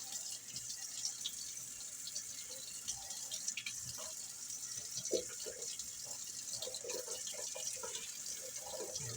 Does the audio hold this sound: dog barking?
no